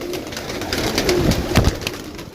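Pigeons cooing at a rooftop loft, a steady close murmur of soft throaty coos running throughout, with faint background noise and no talk.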